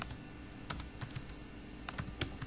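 Rapid keystrokes on a computer keyboard while a URL is entered, irregular clusters of close, crisp clicks with short pauses between bursts, no voices.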